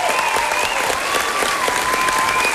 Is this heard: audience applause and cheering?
yes